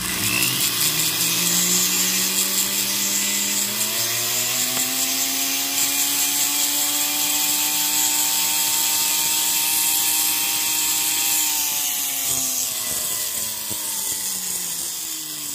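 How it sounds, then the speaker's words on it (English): A high-pitched rotary tool grinds down lapis inlay pieces set in a pair of wedding rings. It whines continuously at close range, its pitch rising and then falling as pressure on the stone changes. "So right now I will grind these lapis pieces down."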